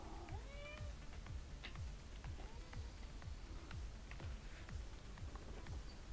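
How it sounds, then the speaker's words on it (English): A cat named Henry meows several times, thin rising and falling cries in a quiet room, joined by a rhythmic low thumping pulse and faint hiss, with no talking. "Yes, Henry. Yeah, that's it. You can go meow."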